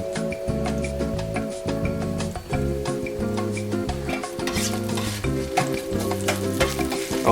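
Hot peppers and vegetables, including mushrooms and garlic, sizzle in a pan alongside steady stirring, with music playing loudly over the frying throughout.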